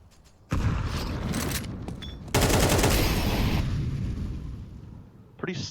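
Video game crossfire: two long bursts of rapid automatic gunfire, the second louder and denser, rattling continuously for a few seconds and then trailing off, with a short sharp shot at the end.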